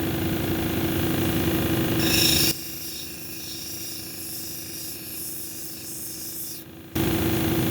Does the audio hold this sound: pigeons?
no